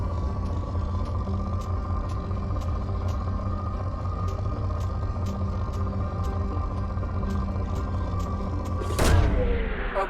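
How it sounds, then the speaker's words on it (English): Probe launched from a ship in Mass Effect 2, a sharp whooshing burst near the end over a steady droning hum and faint repeated ticks. "Launching probe."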